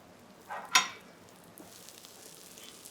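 Egg-coated chicken breast fries in a pan over medium-low heat for chicken française. A soft sizzle carries a sudden sharp crackling burst near the start, then settles into a faint hiss.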